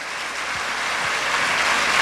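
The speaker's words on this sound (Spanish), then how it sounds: "Dale un aplauso más fuerte al Rey de Reyes." Church congregation applauding in praise during a sermon, a steady dense wash of clapping that holds at an even level for the whole stretch, with no talk over it.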